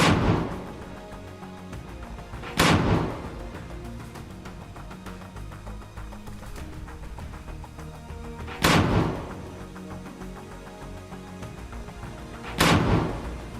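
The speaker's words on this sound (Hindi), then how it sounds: "हमास के कुछ लड़ाके हरियाली में छिपकर लॉन्चर में रॉकेट भरकर दनादन दाग रहे हैं" Combat rockets launched from a concealed launcher in greenery, four sharp loud blasts spaced a few seconds apart, each with a rushing tail, over a low background rumble.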